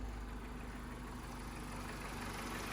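A car engine idles steadily with the air conditioning running, a continuous low rumble with a faint steady tone above it, close and unbroken, with no voices.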